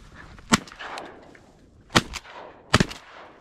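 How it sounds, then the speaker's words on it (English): Three sharp shotgun blasts ring out during a goose hunt from a kayak on icy water, spaced unevenly over a few seconds, each a quick crack with a short decaying tail against a quiet outdoor background. "You hit him that first shot."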